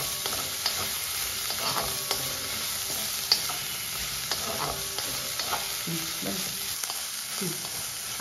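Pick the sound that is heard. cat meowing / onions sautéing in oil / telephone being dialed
onions sautéing in oil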